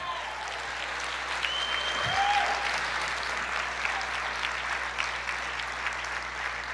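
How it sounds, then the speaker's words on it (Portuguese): A church congregation applauding the Lord, a broad continuous wash of clapping from a large crowd, with a brief voice or shout rising over it and a low steady hum beneath. "Aplauda o Senhor"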